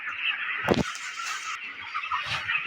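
Broiler chickens in a poultry shed give a steady, dense chorus of chirping and clucking, with one louder squawk near the start and no talk over it.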